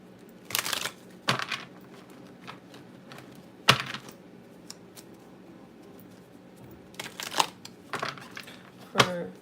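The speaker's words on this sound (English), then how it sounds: "Let me give it a good shuffle." Tarot cards being shuffled during a live reading, giving several crisp riffling and snapping bursts spaced irregularly over a quiet background, close and fairly soft.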